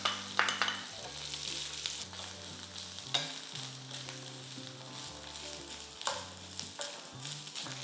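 Grated coconut, two green chillies and nuts are sautéed in a pan over high flame, giving a steady close sizzle with repeated scraping and stirring strokes and no talk.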